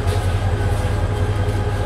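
Nasirabad Express local train travelling at night from Feni to Chattogram, giving a brief, steady low rumble of carriages in motion with no break or change.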